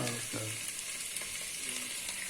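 Chicken pieces drop into hot oil with fresh mint for a chicken biryani, a steady close sizzle with a few sharp bursts of spattering and stirring, no voices.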